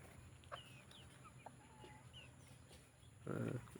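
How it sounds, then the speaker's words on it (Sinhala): A turkey gives scattered short calls, soft and somewhat distant, over a steady background hiss, with a brief louder rustle near the end. "මේ ඉන්නේ එක ගිනි කුකුලෙක්."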